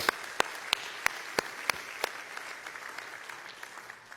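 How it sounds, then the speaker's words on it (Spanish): A church congregation claps in a faint, evenly spaced beat of sharp, distinct claps, then the rhythm loosens and fades into scattered quiet clapping. "Este aplauso es para ti,"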